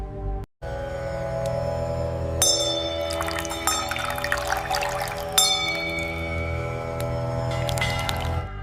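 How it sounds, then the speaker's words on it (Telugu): A temple bell rings repeatedly with bright metallic strikes and long sustained tones that overlap and linger, loud and close throughout. "గంట శబ్దం మనలోని అజ్ఞానాన్ని పోగొట్టి జ్ఞానాన్ని మేల్కొల్పుతుంది"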